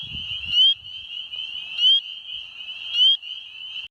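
Spring peeper frogs call at night by a pond, a loud, clear, high piping whistle repeated about three times with regular spacing, each note rising sharply at its end.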